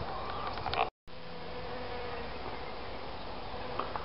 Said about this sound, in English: Where's that bee?